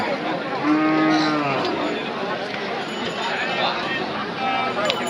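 Cows moo repeatedly at a large outdoor cattle market in Dinajpur, with several drawn-out lowing calls rising over a constant crowd babble and people talking nearby.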